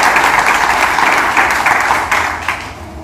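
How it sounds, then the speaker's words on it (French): A church congregation applauds and cheers loudly for Jesus Christ during a prophetic sermon, a dense, steady wash of clapping with brief bursts swelling through it, close and continuous for a few seconds. "Acclame pour Jésus-Christ."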